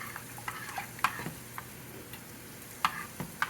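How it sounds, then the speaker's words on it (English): A golden spoon stirring onion soup sauce in a pot, soft quiet scraping with several light clinks of metal spaced irregularly. "Mix that up with my golden spoon"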